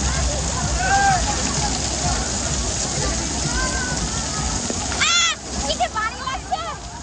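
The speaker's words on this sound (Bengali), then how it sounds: "এই যে ফোয়ারায় স্নান করবো গিয়ে।" Fountain water at a water park splashes and patters steadily like heavy rain, loud and continuous, with people talking and shouting over it and a brief dip before voices rise.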